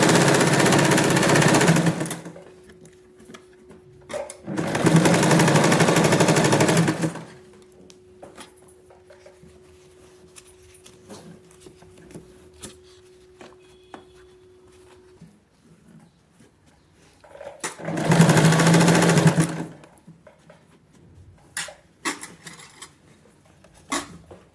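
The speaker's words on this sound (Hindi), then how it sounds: "बड़ी सी खुली सी ही सिलाई हमने लगानी है।" Sewing machine stitching fabric for girls' shorts: three loud, steady whirring runs of a few seconds each, separated by quieter stretches with faint clicks and handling noises.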